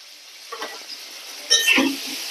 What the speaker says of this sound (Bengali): গরম তেলের মধ্যে দিয়ে আলুগুলোকে একটু কালারিং করে দিই